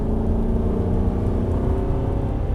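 An Aston Martin Vantage V8 pulls hard along a race track, its engine holding a continuous loud rumbling drone with a faint whir, steady throughout with no speech.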